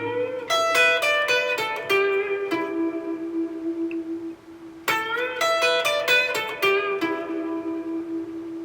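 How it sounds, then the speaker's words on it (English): An electric guitar plays a standard blues minor pentatonic lick twice, alone and close. It has quick picked notes and a sustained bent note that rings out at the end of each phrase. "that opening lick is actually a variation of a standard blues scale stroke pentatonic minor lick"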